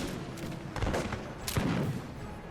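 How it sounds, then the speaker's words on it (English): Massed musket volleys from three regiments in a video game battle, loud crackling bursts of gunfire rolling in waves, with a heavy surge near the start and another about two-thirds through. "We've got 3 regiments firing full fire"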